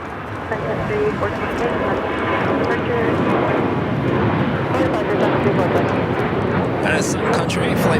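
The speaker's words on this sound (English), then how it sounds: "Sun Country, Flight 428, heading to Minneapolis, 737-800" A Sun Country Boeing 737-800 bound for Minneapolis rumbles past at Los Angeles International Airport, a steady jet roar heard from a distance, with people talking over it.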